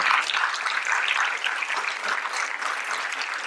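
Steady audience applause at a literary conclave held at a school in Mandi, dense continuous clapping from a crowd, fairly loud and unbroken for the whole stretch, with no voices.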